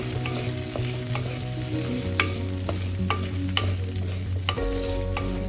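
Shallots frying in oil for a Kerala kudampuli fish curry, a loud, steady sizzle with periodic spatula strokes scraping the pan as they are stirred, close and continuous, with no voices over it.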